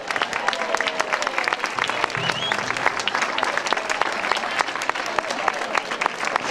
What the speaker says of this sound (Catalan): Vinga, un fort aplaudiment per elles.